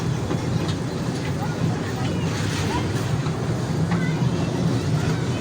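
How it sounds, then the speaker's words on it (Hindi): An amusement park ride train at an outdoor park in Karachi runs with a steady low rumble and rolling clatter, held throughout amid crowd noise and background chatter. "तो हमारी ट्रेन की आवाज़ आ रही होगी।"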